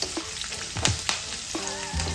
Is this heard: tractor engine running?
no